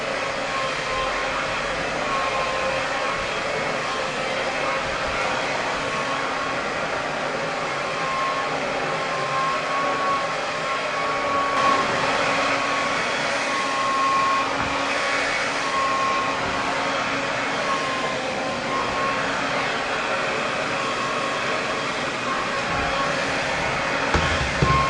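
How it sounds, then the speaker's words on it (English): A hair dryer blows steadily while straightening curly virgin Indian hair, a constant close whooshing roar that holds unbroken for the whole stretch, with no talking. "So I'm going to go ahead and blow dry all of my hair,"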